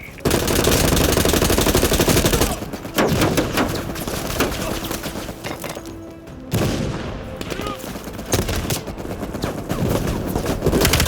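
Sustained, loud machine gun fire from a mounted MG in a Call of Duty Black Ops Cold War campaign battle, with dense bursts, booming impacts and a brief lull before the firing resumes, and voices calling out over the noise.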